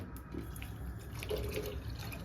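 Water poured into a container makes a soft, close trickle and splash that runs continuously with no talking.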